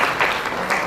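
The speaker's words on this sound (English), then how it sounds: "A big round of applause for Mr. Santanu Mitra." A short burst of applause from a conference audience, steady clapping for about a second.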